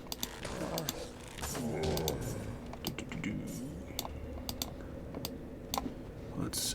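Rapid clicks of a computer mouse right beside the microphone during PC play of the game Torchlight, sounding as sharp, close, irregular taps over a steady low background hum.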